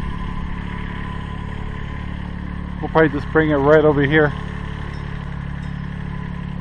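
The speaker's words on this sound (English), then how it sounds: "here comes our piece of wood, our hay, and some scrap wood that's underneath the hay on our very slow little tractor" A very slow little Kubota tractor hauling hay and scrap wood on a homestead in Central Oregon, its engine idling as a steady low drone in the background while someone talks briefly midway.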